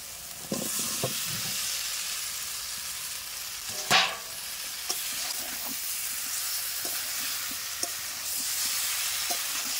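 Fried potatoes added to a pan of well-cooked spiced masala for a jackfruit curry, sizzling in a steady hiss with scattered scraping stirs and one sharper burst near the middle, no talk.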